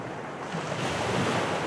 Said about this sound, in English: And the soft lapping of nearby waves.